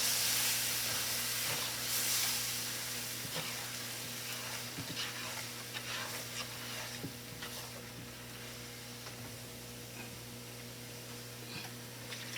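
Steady hiss and sizzle of water poured a little at a time into a hot cooking pot at a church potluck, a continuous broadband spray with faint intermittent clicks and a low hum beneath.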